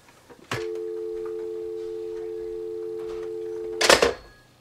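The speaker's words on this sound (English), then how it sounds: "If I pick up the phone." A steady telephone tone sounds through a studio mixer after the handset is picked up, holding a clean, even pitch for about three seconds between handling clunks, with no talk.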